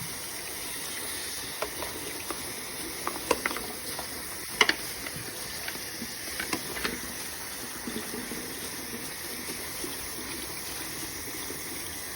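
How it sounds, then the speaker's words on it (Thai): Water sloshes and trickles steadily as cut, peeled taro pieces are rinsed by hand, with scattered small splashes and clinks close by. "เราหั่นปอกเสร็จก็หั่นแล้วก็เอามาล้าง"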